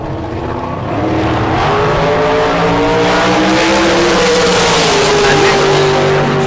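A Davis-prepared dragster roars down a drag strip at a bracket race, its engine note climbing in pitch as it accelerates, loud and sustained with an announcer's voice over the top.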